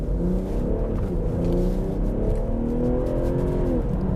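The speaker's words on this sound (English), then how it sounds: "let's go to Eco Pro here, which is the tamest of the driving modes, and I'll throw my foot to the floor" A 2020 BMW M340i xDrive accelerates hard at full throttle in its tame Eco Pro driving mode, a steady, close engine drone climbing smoothly in pitch for about four seconds with no talking.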